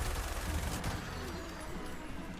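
Gunfire in the video game Fallout 76 during a room-clearing fight, a dense, loud burst of rapid shots filling the first half and then thinning into rougher noise.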